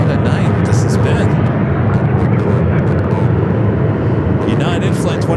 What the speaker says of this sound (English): 787-9 Dreamliner just touching down here on the south side.